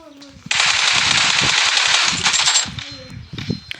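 Rapid automatic gunfire from the video game PUBG rattles loudly and continuously for about two seconds, then tapers off into scattered bursts while someone talks over it.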